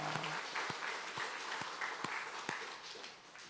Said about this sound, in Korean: 박수를 한번 우리 쳐주고